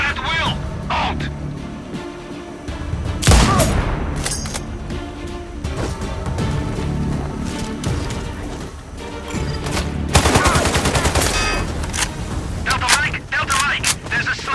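Gunfire in the video game Sniper Ghost Warrior Contracts 2 crackles as sharp shots and bursts under a dense, constant bed of game music and effects, with radio-style voices talking throughout.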